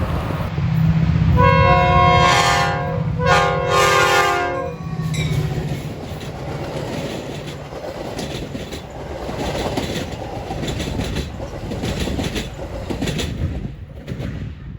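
Metra commuter train 126 leading a Union Pacific unit in northern Chicagoland blasts a loud, close horn in several bursts, then rumbles past with steady wheel and car noise that gradually fades.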